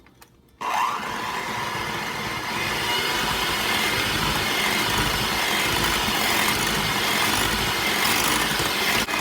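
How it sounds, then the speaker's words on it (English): An electric mixer starts abruptly and runs on medium speed, churning a dough of sweetened condensed milk with a steady, dense whirring hum and slight rattling that holds constant throughout, with no talking. "And we're going to mix all these together on medium speed until they're well incorporated."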